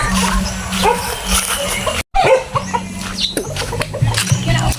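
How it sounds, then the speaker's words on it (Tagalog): A dog barks and yips in short bursts over a loud, noisy outdoor forest background, with a brief dropout partway through. "May aso pa yung kadaanan ko ba?"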